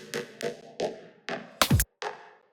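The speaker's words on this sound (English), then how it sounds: "which is this sort of pitch down effect right here" Reese bass made in Reason 8: six short, thick bass stabs in a steady rhythm, one of which swoops sharply downward in pitch through an echo delay-time sweep before the last stab rings out.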